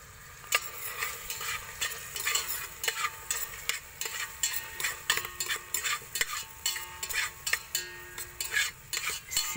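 Onion and garlic sautéing in a pan for humba, a steady sizzle under repeated scraping strokes of a utensil against the pan, close and fairly loud, with no voices.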